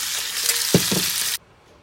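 Meat and onions sizzle in a pot for jambalaya, a dense close hiss with a couple of quick spoon scrapes in the middle before the sound cuts off abruptly.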